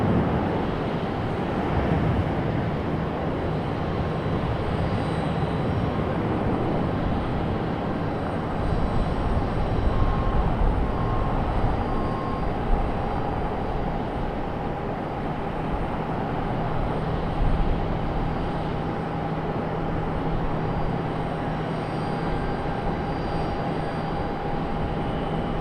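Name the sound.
American Airlines airliner departing from Raleigh-Durham airport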